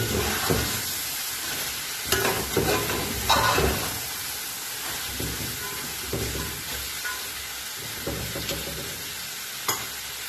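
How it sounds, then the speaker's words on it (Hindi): Vegetables for Chinese pulao sauté in a hot pan with a steady, close sizzle. A spatula scrapes and tosses them in irregular bursts, and no one speaks. "अब हमने इन्हें थोड़ी देर के लिए सौते करना है, 5 से 10 मिनट के लिए।"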